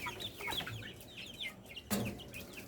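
Fayoumi and Sonali chickens, raised for about 45 days in a poultry shed, cluck in a busy, overlapping chorus close at hand, with one louder squawk standing out near the end.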